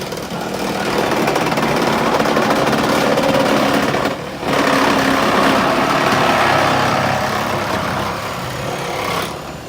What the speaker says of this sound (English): Notice how the doors spreading apart and kind of splitting.